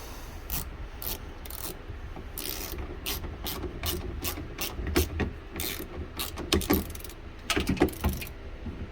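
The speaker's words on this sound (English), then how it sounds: "10mm socket, we're going to tighten this up" A 10mm socket ratchet tightens truck window regulator bolts, giving repeated quick bursts of clicking pawl ratchet strokes in a steady rhythm, close and clear, with no talking.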